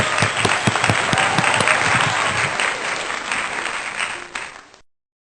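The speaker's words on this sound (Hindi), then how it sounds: "तालियां।" Applause at a Sunday worship service, a dense round of clapping from the congregation, loud and sustained for about five seconds before cutting off.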